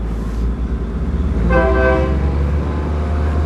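A train on the Mae Klong railway line in Thailand sounds its horn in a sustained harmonic blast over the steady rumble of rolling wagons, loud and close, with no talk.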